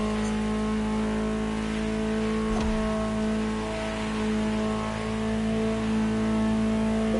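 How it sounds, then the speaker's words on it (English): A car engine in the racing video game The Crew Motorfest hums at a steady, droning pitch with a brief sharp knock partway through, continuous and fairly even in loudness. "Just listen to the car you're driving."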